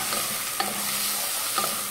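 Onions browning in a pan for carne seca acebolada give off a brief, even sizzle with a couple of light stirring clicks. No one speaks.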